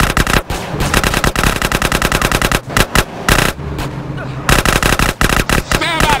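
Drive-by gunfire in GTA San Andreas: loud, rapid bursts of automatic weapon fire crackle almost continuously, broken by a few short pauses, with game vehicle noise underneath.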